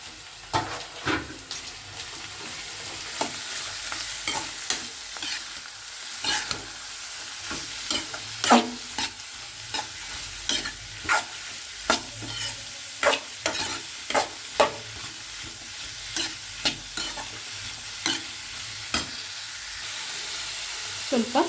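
Finely chopped capsicum and carrot are stir-fried in a pan, a constant sizzle broken by repeated sharp spatula scrapes and taps against the pan in an uneven rhythm, close by, with no talking.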